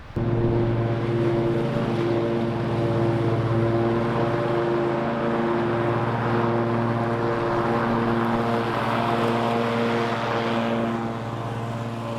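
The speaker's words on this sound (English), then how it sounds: "So we're going to give this a little haircut and really show you the cut quality on this mower." A 2020 Toro TimeCutter riding lawn mower cuts grass, giving a loud, steady engine drone with a constant tonal hum that continues without letup, close by and with no voices.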